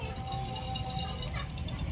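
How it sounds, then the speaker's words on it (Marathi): Cooking oil poured into a kadhai on the stove comes through as a faint, steady liquid trickle, with low background rumble. "कढईत मी तेल टाकून घेऊ."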